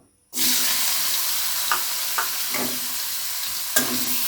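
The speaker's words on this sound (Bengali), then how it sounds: "এখন এভাবে কড়াইটাকে নাড়িয়ে এখন মাছগুলো দিয়ে দিব" Dried lotia fish hits hot oil in a wok with a sudden loud burst of sizzling that holds steady and close for several seconds, punctuated by a few faint clicks of stirring.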